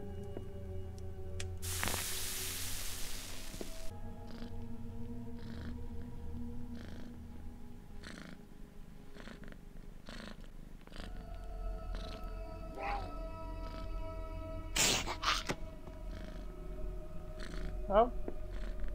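A cat purrs low and steady through much of the stretch, close and soft, with faint voice-like sounds and a few brief louder noises over it.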